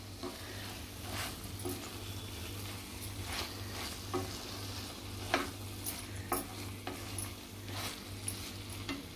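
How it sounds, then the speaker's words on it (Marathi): Cooked okra being stirred into a masala gravy in a pan, with repeated scraping strokes of a spoon against the pan over a low steady sizzle, close and moderately loud, without talk. "भेंडी आपण चांगली शिजवून घेतली, तर याच्यामध्ये घातलेले आहेत ग्रेव्हीमध्ये. चांगली मिक्स करायची आहे."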